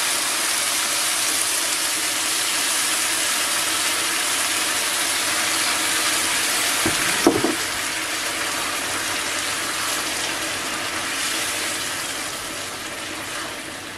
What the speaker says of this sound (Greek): Έβαλα 3 φλιτζάνια νερό, θα το δούμε, αν χρειαστεί θα βάλουμε κι άλλο.